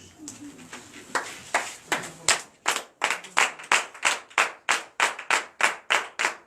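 A church congregation at a night deliverance and prophecy service in Comè, Benin claps in acclamation, starting loose and scattered, then settling into a steady, loud rhythmic beat of sharp handclaps with faint murmuring beneath.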